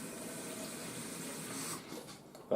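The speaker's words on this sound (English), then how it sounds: "We start off with 200 ml of water." Tap water runs steadily into a measuring jug for a vegetable pickle brine, a continuous close splashing pour that thins out near the end.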